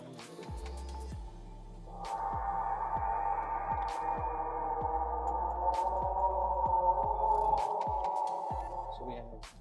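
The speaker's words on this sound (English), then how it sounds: "we have the Halo sound for the boot." Startup jingle from the Halo 3 video game playing on a custom Halo 3 edition Xbox 360 Slim console at boot, a sustained swelling tone rising after a couple of seconds over a steady rhythmic low pulsing, heard alone and fairly clearly.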